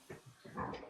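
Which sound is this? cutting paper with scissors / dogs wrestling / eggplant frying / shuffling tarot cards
dogs wrestling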